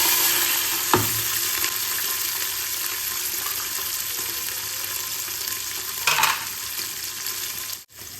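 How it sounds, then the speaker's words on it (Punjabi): Peas, onion and green chili frying in a pan for Punjabi pea rice: a loud, steady close sizzle throughout, with two brief stirring scrapes, no talking. "ਮਟਰ ਤੇ ਪਿਆਜ਼ ਤੇ ਹਰੀ ਮਿਰਚ ਆਪਾਂ ਇਹਨਾਂ ਨੂੰ ਐਡ ਕਰ ਦਾਂਗੇ"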